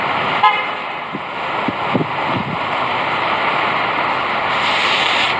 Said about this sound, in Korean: 빵빵 소리가 많이 나네요